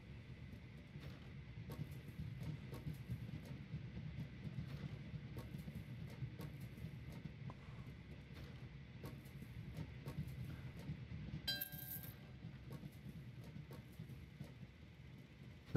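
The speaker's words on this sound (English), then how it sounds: "we're actually going to send another passenger train down into here" A passenger train rolls along the rails in the Train Valley 2 video game on a Swiss level, giving a faint, steady rumble with light clicking throughout and no talk.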